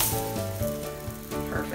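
A high protein, low fat pancake sizzling in a hot pan just after being flipped, steady close frying hiss for a couple of seconds with faint stirring-like scrapes.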